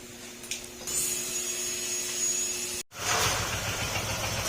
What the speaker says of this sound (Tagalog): maandar na si ADB160. Yun narinig yung tok tok tok tok tok tok tok, mga ganun.